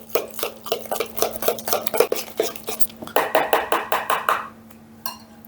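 A utensil stirs banana muffin batter in a bowl with a steady rhythm of close scraping, clinking strokes, speeding up before trailing off, with no talk over it.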